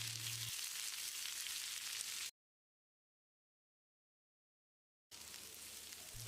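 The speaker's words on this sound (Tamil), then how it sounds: "இதை போட்டு செவந்து வர்ற அளவுக்கு வதக்கிடலாம்." Three large onions, sliced lengthwise, sauté in a pan for Mangalore-style chicken chukka. They give a steady close sizzle, broken by a complete silent gap in the middle, with no talk.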